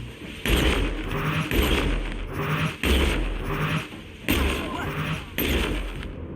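Plasma weapon fire in the video game The Outer Worlds: a run of loud, repeated booming shots in rhythmic bursts roughly every second, with game ambience between them.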